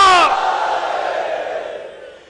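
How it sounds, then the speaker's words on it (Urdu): At a Jashn-e-Abbas religious gathering in Lucknow, a crowd bellows a loud, unified slogan shout of Haidari that bursts out at once and then trails off slowly as the voices fade. "ایک باواز بلند نعرے حیدری"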